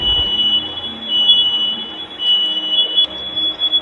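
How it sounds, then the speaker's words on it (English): A home smoke or fire alarm sounds with a continuous piercing high-pitched electronic tone that holds steady throughout, loud and indoors, with faint room noise underneath. "a woman is home alone when something terrifying happens and her fire alarm goes off."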